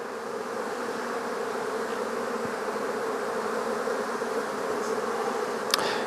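Honey bees drone in a steady, dense buzz at an open hive with a frame lifted to expose drone brood, loud and continuous throughout with no voices.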